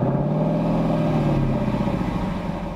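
A 2021 Lexus LC 500 convertible's naturally aspirated V8 revs steadily, a loud, close, sustained engine roar with a rich low growl that holds throughout before easing slightly near the end.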